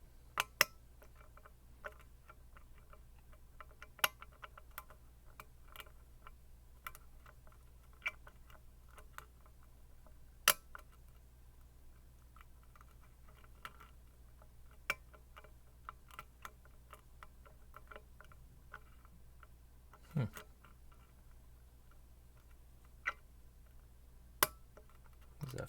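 Faint, sparse metallic ticks and clicks come from picks and a tensioner working the pins of an American 700 padlock, scattered irregularly over a quiet background with no talking.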